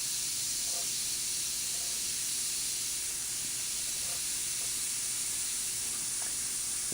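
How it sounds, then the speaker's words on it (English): An airbrush sprays paint in a steady, constant hiss lasting several seconds, with a few faint clicks and taps underneath and no talking. "airbrush just puts the line exactly where I need it."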